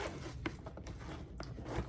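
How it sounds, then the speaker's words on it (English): A zipper on a large Gucci shopping bag is worked with short, faint scraping rasps, quiet and close with no talk. "And it has a zipper, of course."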